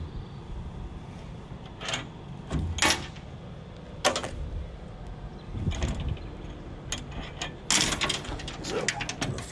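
The chained tailgate of a 1996 Honda Acty SDX mini truck bed is unlatched and folded down, giving a few metallic clanks and rattles of chain against a quiet outdoor background.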